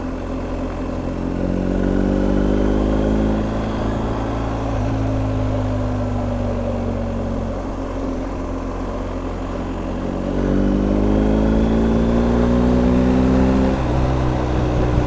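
A BMW R1250 GS Adventure Triple Black motorcycle ridden in rain mode on wet roads, its engine droning loudly and steadily, with rising pitch sweeps as it accelerates through the gears and a dip between pulls, plus wind rush.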